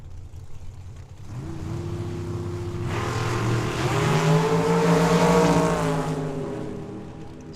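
Drag race launch at Tucson Dragway pitting an S10 pickup truck against a dragster: loud engine roar swells from a low rumble into a rising, sustained howl as the vehicles accelerate down the strip, no talk.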